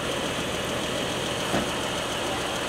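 Engine of a manual car idling steadily with a learner at the wheel, a loud, continuous mid-range rumble that holds even throughout, with no talking.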